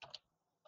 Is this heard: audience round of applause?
no